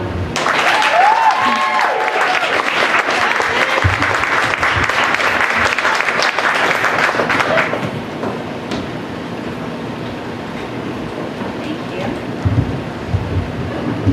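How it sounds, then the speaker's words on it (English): An audience gives a storyteller named Danielle a long, loud round of applause, a dense roar of many clapping hands that cuts off partway, followed by quieter room sound with faint voices. "Please give a big round of applause for Danielle."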